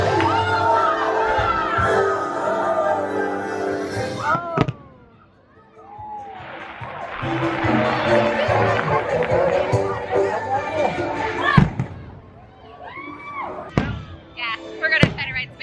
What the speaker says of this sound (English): those loud booms are the fireworks going off right now